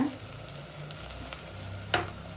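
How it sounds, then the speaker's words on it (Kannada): Onions fry in a pan for a spiced fenugreek-leaf rice dish with a steady soft sizzle and crackle, broken by one sharp clink of a stirring spoon near the end. "ಈರುಳ್ಳಿ ಎಲ್ಲ ಚೆನ್ನಾಗಿ ಬ್ರೌನ್ ಕಲರ್ ಬರೋವರೆಗೂ ಫ್ರೈ ಆಗಬೇಕು"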